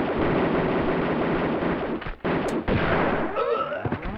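Enemy shotgun fire during an ambush on the Offshore Rig level of Tomb Raider 2, a dense, loud burst of game gunfire filling most of the clip, dropping out briefly before resuming.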